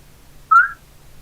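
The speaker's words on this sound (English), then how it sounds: "You hear a whistle being blown from the harbor side." A single short, shrill warning whistle blast, played as a tabletop fantasy game sound effect for a harbor alarm, rings out alone against near silence for about a quarter second.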